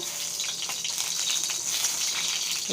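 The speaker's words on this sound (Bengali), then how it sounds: "এবার আলুগুলো আমি ভেজে নিচ্ছি" Potato pieces frying in hot oil for a fish curry with cauliflower, a steady bright sizzle holding level the whole time with faint crackles scattered through it and no talking.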